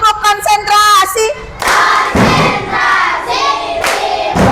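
A sixth-grade Indonesian class repeats the 'tepuk konsentrasi' clap routine: a sung teacher cue, then the children's loud unison chanting mixed with rhythmic clapping and thumps close by.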